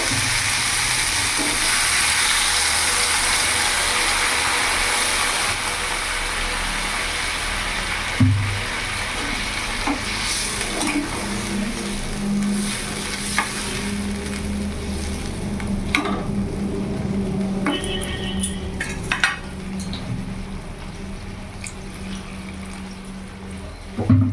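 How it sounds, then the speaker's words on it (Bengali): Water goes into a pan of spiced potatoes and cauliflower. A loud frying sizzle at first gives way to softer bubbling and hissing, with scattered clinks and scrapes of stirring. "এবার আমি জল দিয়ে দেবো"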